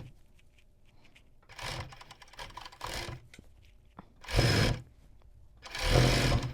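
An overlock machine stitches a basic strappy tank top with elastic at the top, running in three loud, steady whirring bursts with quiet pauses between them, close by and with no talking.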